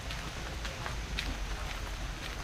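Steady rain on an outdoor surface makes a constant soft hiss with scattered faint droplet ticks, even and unbroken throughout.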